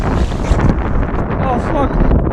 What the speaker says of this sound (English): This wind has been crazy!